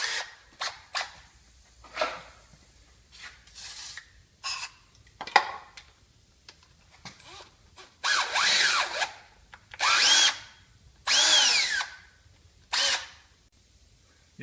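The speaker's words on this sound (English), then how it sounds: "Now you need to drill it." A cordless drill whirs in several short bursts while drilling for a BMW thread repair, some brief and others lasting about a second, close by with quiet gaps between.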